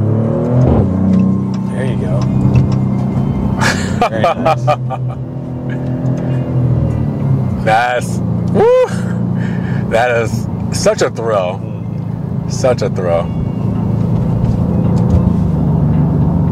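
A 2024 Maserati GranTurismo Trofeo in sport mode, driving in Miami, with a steady engine drone and several rising revs heard from inside the cabin while people talk excitedly over it.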